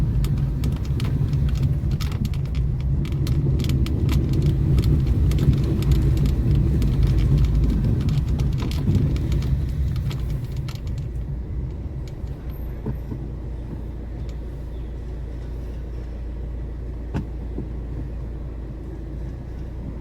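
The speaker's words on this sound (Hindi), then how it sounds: "फुल गाड़ी चढ़ रही है।" A car engine labours up a steep uphill road in Mumbai during the rain, a steady low rumble that is louder at first and then eases to a quieter drone.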